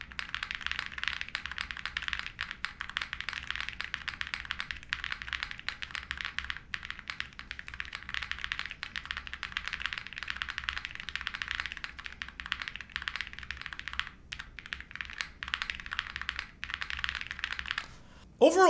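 Continuous typing on a Trio-65 mechanical keyboard with foam and GMK keycaps, a dense stream of soft close clicks and clacks at an even pace, alone without talk.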